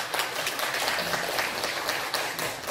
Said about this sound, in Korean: 저도 박수 한번 드리겠습니다.